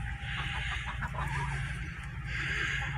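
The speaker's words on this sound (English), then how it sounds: "He's a barred rock rooster." A barred rock rooster in a backyard pen clucking and calling at moderate distance amid steady outdoor background noise.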